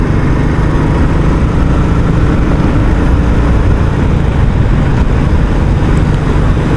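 A Royal Enfield Classic 350 with its stock exhaust idles close by, a loud, steady low engine thump that runs unbroken throughout.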